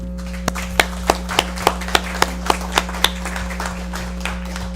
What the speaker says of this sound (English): I think we owe our legislators a round of applause.